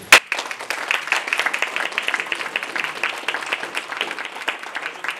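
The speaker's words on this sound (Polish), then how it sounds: "wielkie brawa dla Pani Bożeny." A crowd applauds at the opening of a textile exhibition, a dense, lively clatter of many hands after one sharp loud knock at the start, continuing evenly throughout.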